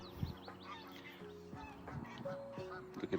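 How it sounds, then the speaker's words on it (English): Geese honk repeatedly near a hunting castle, a cluster of overlapping honks and calls, moderately close and fairly quiet, with faint outdoor ambience. "Look at the geese."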